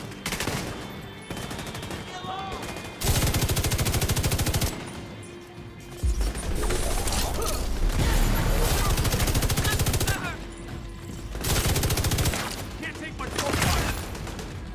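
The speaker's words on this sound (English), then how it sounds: "The boss is shotgunning me to death." Heavy automatic gunfire from The Division 2's Battle for Brooklyn, with bursts of loud rapid shots alternating with quieter stretches and mixed game sounds, while a player talks over parts of it.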